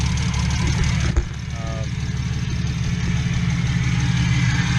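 A straight-piped BMW Z4 with headers and a newly installed motor idles at its first start-up, a loud, steady low rumble holding throughout with a brief sharp click near the start.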